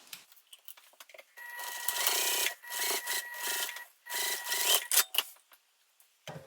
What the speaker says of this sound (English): I'm going to now go ahead and sew across the bottom here with the seam allowance in the pattern